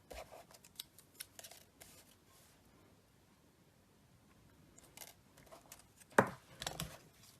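Scissors snip through paper and gold foil for a Paper Pumpkin stamped craft, with a few faint rustles early on, then a sharp cut and a short flurry of snipping near the end, close and quiet.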